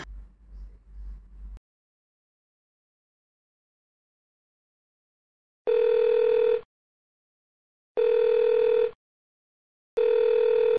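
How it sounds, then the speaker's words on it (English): A phone is dialed and then rings through the line, giving three evenly spaced loud ringback tones, each about a second long, separated by silence, after a brief low hum at the start. "There's only one number saved on the phone. Dial it up."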